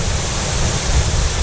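Hidden waterfall on a St. Lucia hiking trail, a loud, steady broadband roar of falling water filling the whole clip with no voices.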